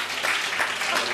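Studio audience at a televised music show claps in a dense burst of applause, bright and close, lasting a moment.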